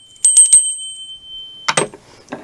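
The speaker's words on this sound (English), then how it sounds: "We have a Buddha bell." A small Buddha bell struck in two bursts, bright ringing hits with one long sustained tone between them, then a few softer clinks, close and loud.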